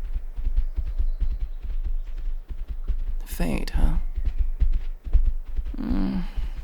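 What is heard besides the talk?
horses walking, hooves clip-clopping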